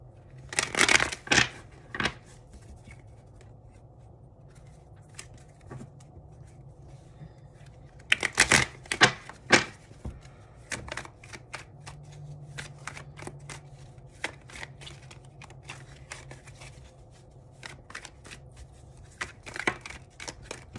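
A deck of tarot cards being shuffled by hand in bursts of crisp riffling and flicking, with clusters of sharp card snaps at the start, around the middle and near the end over a low steady hum, no talking.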